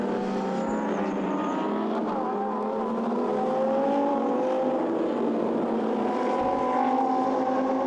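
Lamborghini Super Trofeo race cars in the pit lane at the Nürburgring, their engines a continuous loud drone with shifting tones as cars come in during a race.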